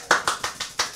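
Applause from an audience at a live concert event, several bursts of hand clapping rising and falling at close range, loud and alone with no voices.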